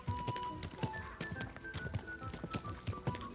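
Horse hooves clip-clop at a steady walking rhythm in Kingdom Come: Deliverance II, moderately close under a dense bed of game ambience and music, with no talking.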